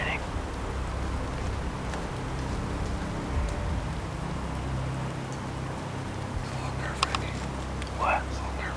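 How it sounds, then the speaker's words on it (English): Steady rain falls outside Wonderland Eurasia, an abandoned theme park, and is heard from indoors as a constant broadband hiss with occasional drips. Faint whispering voices come and go over it. "It's still raining."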